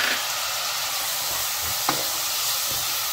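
Tomatoes cook in a hot pan for a brinjal and soyabean curry, giving a steady, close frying sizzle with a few brief stirring scrapes; no one speaks.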